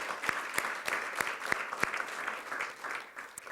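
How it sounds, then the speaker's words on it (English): Applause for school principals and assistant principals at a school district governing board meeting, a burst of clapping from a seated audience in a hall, with individual hand claps audible. "can you please stand so we can give you a big round of applause as well."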